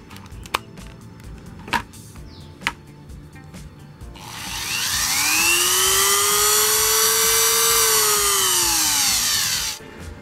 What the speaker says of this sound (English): So let's connect this 180 watt Dremel here.